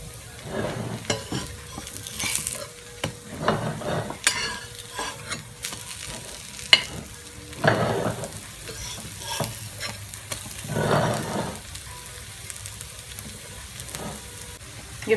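Vegetable kebabs frying in a shallow pan crackle and sizzle steadily at close range, broken by a few louder bursts of scraping and flipping with a spatula.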